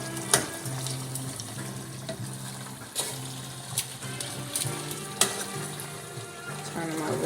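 Potatoes frying with oxtails in a skillet, a steady close sizzle broken by scattered clinks and scrapes of stirring, with a background hum.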